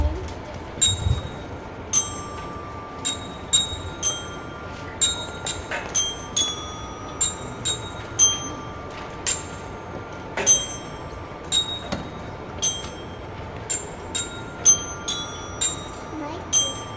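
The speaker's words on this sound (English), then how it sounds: "Olivia playing bells on percussion" Bells struck as percussion by a student at a school spring concert, playing a simple tune with bright ringing notes in a steady rhythm, each sustaining briefly over a soft hall background of murmurs.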